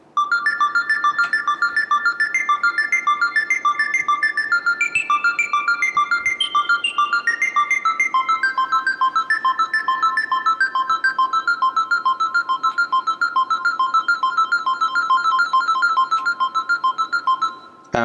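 A high-pitched arpeggiated synth in Ableton Live runs in fast, even repeating notes, its pattern shifting pitch across a steady, bright, continuous loop with no talking.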